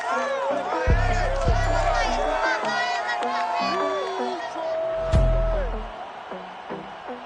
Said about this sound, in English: A good crowd on hand and seemingly ready to go.